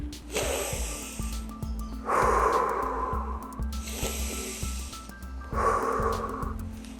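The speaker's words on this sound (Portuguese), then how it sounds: "Inspire e respire profundamente para conectar-se consigo mesmo e não se deixar levar pelo estado ansioso." Slow, deep breathing during an anxiety-relief exercise: two long, airy inhale-exhale cycles with audible rushing breath, close to the mic, over a low steady background hum, no talking.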